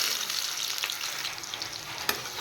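Chopped onions hit hot mustard oil for a prawn dish, giving a steady close broadband sizzle with a brief sharper crackle near the end and no talking.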